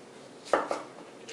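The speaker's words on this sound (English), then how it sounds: "And then we're just going to cut it down and just keep cutting." A knife chops cucumber into small dice on a cutting board, with two distinct close chops followed by a fainter tap, no talking.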